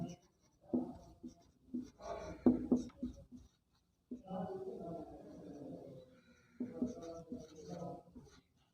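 Chalk or marker writing on a board during a class 9 geometry lesson, short bursts of scratchy strokes and taps with pauses between them, close and fairly quiet.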